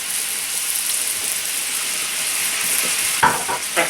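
Balsamic pork chops fry in a pan while being turned and stirred, a dense steady sizzle filling the whole stretch, with a couple of louder scraping clinks of the utensil near the end.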